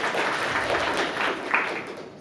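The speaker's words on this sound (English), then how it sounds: "Applause, first of all?" Brief, modest applause from a tech talk audience after a presentation on image restoration with GANs, steady clapping for about two seconds that thins out toward the end.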